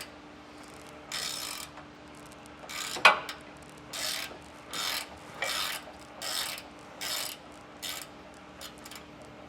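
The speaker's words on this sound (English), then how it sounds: "now I'm fighting out the center hanger bolt" A wrench works loose the center hanger bolt on a trailer suspension while a Dexter E-Z Flex kit goes onto a 2012 Forest River Wildwood: about seven steady rasping ratchet strokes, close and even, with one sharp metallic clank early on.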